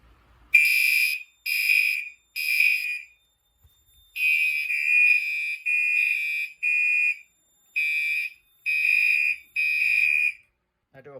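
Notifier NFS2-640 fire alarm demo system sounding after an SK rate-of-rise heat detector is triggered: loud electronic horn blasts, three short pulses, a pause, then a longer run of repeated pulses, with no talking.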